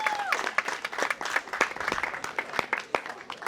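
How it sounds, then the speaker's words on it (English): A crowd at an outdoor disability pride event gives a teacher a quick round of applause, a moderate, steady patter of many hands clapping, heard at a slight distance. "Can we give her a quick round of applause for the work she does?"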